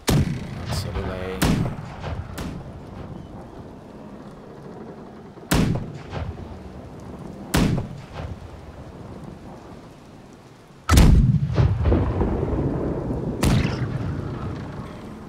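Ship cannons firing in the naval battle game Blackwake, with sharp, loud booms in irregular bursts, several close together and followed by rumbling decay, with voices heard faintly between shots.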